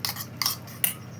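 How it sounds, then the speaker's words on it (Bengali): Yogurt being whisked in a bowl, three quick scraping strokes of a utensil against the bowl, evenly spaced and close up, with soft quiet between them. "এবারে দইটাকে ফেটে নেব"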